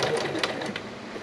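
A sewing machine stitches gray thread in both top and bobbin along a seam of a door handle cover for a 2007 Chevy Silverado, a steady, fast, close mechanical whir with no talking.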